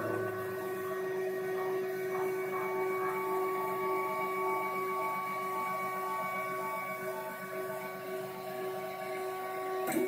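A 3D printer runs a print of a Nexus 7 mirror adaptor, giving a steady, continuous mechanical hum with sustained tonal whine, close and loud with no talk.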